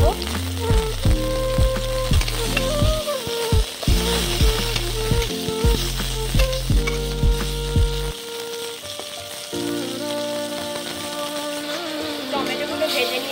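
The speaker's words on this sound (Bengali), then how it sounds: "টমেটোগুলো ভেজে নিয়েছি, এবার ভেজে নিতে হবে" Tomatoes fry in a pan for a rohu fish and drumstick curry, with a steady sizzle and loud low mechanical or ratcheting noise throughout. Stirring runs under it, and bits of faint background talk come and go.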